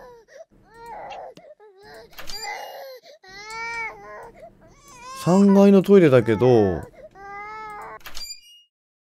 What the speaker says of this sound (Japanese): 赤ちゃんの泣き声が止まった